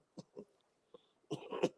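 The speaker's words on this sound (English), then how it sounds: "Coughing up shit." A few short, wet coughs close by, spaced apart, followed by a rougher, rattling burst of coughing.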